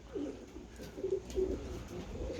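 Pigeon on a rooftop terrace cooing softly, a few low, repeated coos at moderate distance over quiet outdoor background noise.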